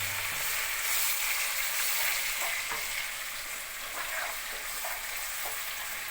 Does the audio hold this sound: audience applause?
no